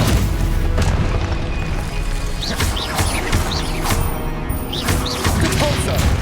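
Spell combat in Hogwarts Legacy: a Stupefy cast lands with booming, crashing impacts amid a dense, continuous wash of battle effects and whooshes, loud and close throughout.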